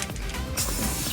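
A short, soft hiss of an aerosol spray can, a single brief burst close by onto a 1967 Camaro front spoiler, with no talking.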